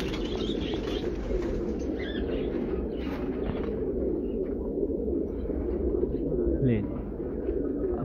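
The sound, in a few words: pigeons cooing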